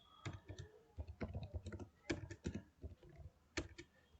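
Rapid clicking of computer keys being typed on a keyboard, close and fairly quiet, in quick bursts with short pauses.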